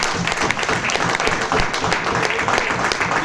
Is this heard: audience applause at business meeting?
yes